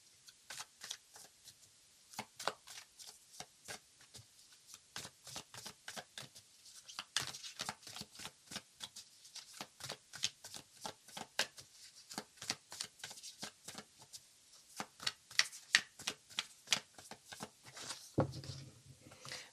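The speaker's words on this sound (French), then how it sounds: "Je mélange les cartes avec vous et je vous laisse découvrir votre tirage." Tarot cards are shuffled continuously by hand in quick, papery riffles and soft slaps, close and fairly quiet, with no voices.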